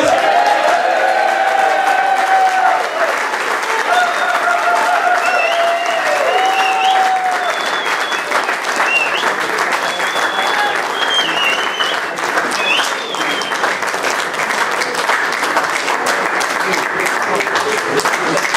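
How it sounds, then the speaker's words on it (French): A crowd claps loudly and steadily, with scattered cheers and whoops rising above the applause throughout. "je pense que c'est le moment de faire beaucoup de bruit pour Enes"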